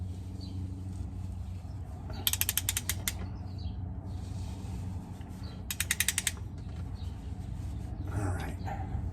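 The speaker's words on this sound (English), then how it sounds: "I have a torque wrench. I want to use it." A torque wrench ratchets in two quick clicking bursts while tightening the rear differential cover bolts on a 2021 Jeep Wrangler, with quiet background noise between them.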